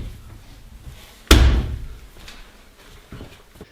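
A wardrobe panel door swings shut on its new hinges with a single sharp bang up close, after soft handling noises and before a few lighter knocks.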